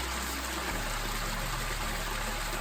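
Steady broadband rush of a river stream flowing at Nonsuch Falls near Port Antonio, Jamaica, continuous and fairly close, with a low rumble underneath and no talking.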